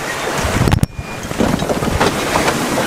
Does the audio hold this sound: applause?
no